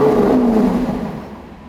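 Lamborghini Aventador SVJ Roadster engine in Corsa mode, blipped to about 3000 rpm: a single short rev, close and moderately loud, that rises briefly and then fades back down, with no voices.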